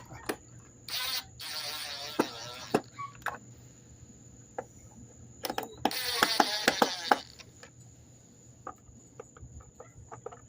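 A hand screwdriver tightens screws on a Black and Decker vacuum, giving scattered small clicks and a few short squeaky, grinding bursts over quiet background.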